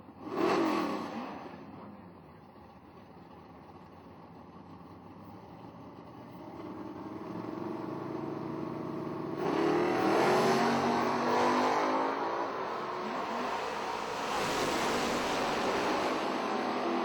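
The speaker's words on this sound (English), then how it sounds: "Howell running the Mopar" A Mopar drag race car roars off the line with a loud burst that fades as it pulls away, then a second sustained engine roar builds and holds at high revs later on, heard from trackside.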